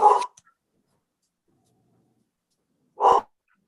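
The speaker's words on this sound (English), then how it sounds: "Everyone's noticed, that's not my dog." A dog in a home during an online meeting gives two short, sharp barks a few seconds apart, fairly close, with silence between.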